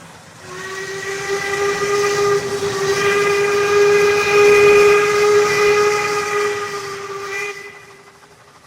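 A steam engine lets out a long, loud, steady whistle with a hissing rush of steam beneath it, swelling in the middle and cutting off near the end, as a sound effect in a Thomas & Friends audiobook.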